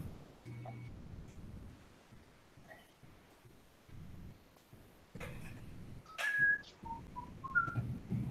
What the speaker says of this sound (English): Is somebody whistling Kill the Wabbit?